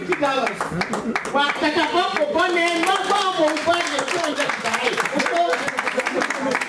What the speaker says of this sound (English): round of applause for Alex Ibineweka